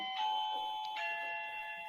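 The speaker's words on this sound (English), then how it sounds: "that's my doorbell, as you can hear in the background" A household doorbell plays a bright chime tune in the background, several clear ringing tones in quick succession, moderately faint and heard alone without talk.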